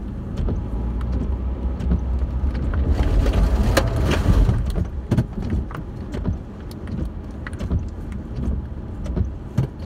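A jeep engine runs steadily while driving in second gear off-road, a continuous low rumble with rattles and knocks from the vehicle, swelling louder for a moment in the middle and staying close throughout.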